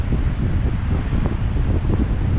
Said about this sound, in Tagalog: Ang lakas ng hangin pero hindi sila umiikot